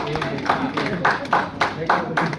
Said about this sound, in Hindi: खाली ताली बजा रहे हो?